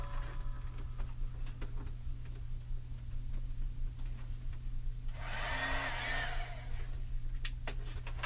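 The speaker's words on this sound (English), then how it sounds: "So I'm just going to get my heat tool and get it started." A heat tool for melting embossing powder on a stamped card whirs steadily and close, with a brief surge of louder airy blowing midway and a few light clicks.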